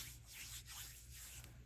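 Hands rubbing ghee over the palms while shaping Ganesh Chaturthi modaks, a soft, close, continuous slick rubbing with a few swishing strokes over a steady low hum.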